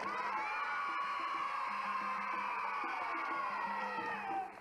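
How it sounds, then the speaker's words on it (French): A studio audience at a French children's television show keeps up loud, sustained cheering and applause with excited shouts and high squeals from children, the crowd noise holding steady before easing off at the end. "Corinne Bissot qu'on peut applaudir vraiment très fort."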